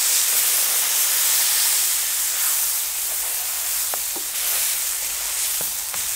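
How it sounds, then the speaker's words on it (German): Fleischkäse burger patties frying on a greased grill, a loud, steady, close sizzling hiss with a few faint pops and clicks. "Und dann braten wir die so ungefähr 3-4 Minuten von jeder Seite richtig an"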